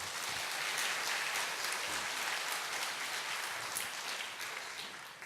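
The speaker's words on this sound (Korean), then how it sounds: "남은 과정 잘 마칠 수 있도록 박수로 격려해 주시기 바랍니다." A church congregation claps during a Sunday worship service to encourage a departing student, producing a dense, sustained wash of applause that fills the hall and gradually fades toward the end.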